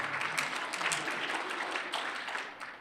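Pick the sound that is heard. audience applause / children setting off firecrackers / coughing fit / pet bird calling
audience applause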